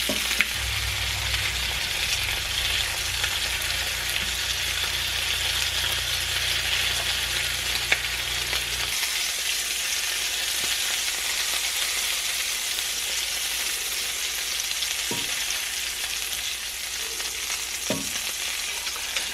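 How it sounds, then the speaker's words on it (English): Sausage pieces fry steadily in a pan for breakfast sausage gravy, a dense continuous sizzle with no voices, joined by a low rumble for the first half and a couple of faint clicks near the end. "I just kind of stack it in my pan just to keep it warm while the other pieces fry"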